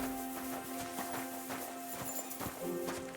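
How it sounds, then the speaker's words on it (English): Horses walking in Kingdom Come Deliverance 2, their hooves clip-clopping in a steady irregular rhythm over a constant game soundscape with sustained tones, with no talk. "Look at them horses."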